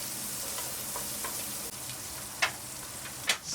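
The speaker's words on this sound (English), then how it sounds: "along with the Amalfi lemon rind and fry on high heat for a minute" Amalfi lemon rind frying on high heat in a pot for octopus spaghetti, a steady close sizzle broken by a few sharp scraping clicks of stirring, with no voices.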